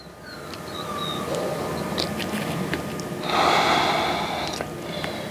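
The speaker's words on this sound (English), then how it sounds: "you can breathe into your belly" Deep belly breaths during a yoga stretch, close and airy, with a long swelling exhale standing out about halfway through, and no voices.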